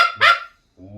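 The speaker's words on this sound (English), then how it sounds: "that's straight a Canadian goose call" Two short honking notes from a Canada goose hunting call being blown, a loud, bright first honk followed by a stronger, higher second, then a lower, softer honk after a brief silence.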